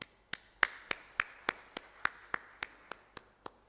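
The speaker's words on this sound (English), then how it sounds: "please allow me to clap for all of you" A single person at an anniversary celebration of a liquid bulk import-export association claps slowly and evenly, about a dozen crisp, separate hand claps at a steady pace, close and alone with no talk over them.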